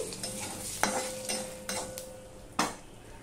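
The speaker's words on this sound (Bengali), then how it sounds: "দেখো 5 ফোড়নটা হয়ে গেছে।" Panch phoron spices crackle and sizzle in hot oil for a vegetarian ridge gourd dish, with a spoon stirring and scraping the pan in several sharp strokes over a steady fry.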